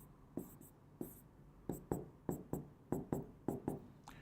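Chalk or marker strokes on a board while a chemistry structure is drawn for a hydronium lesson, about ten short, sharp, rhythmic taps and scratches, close and fairly quiet.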